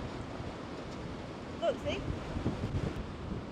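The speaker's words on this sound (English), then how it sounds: "Maybe this is the windiest we've ever experienced." Strong wind buffets the microphone in a very windy Amsterdam street in winter, a steady low roar with gusts throughout, while people talk briefly over it.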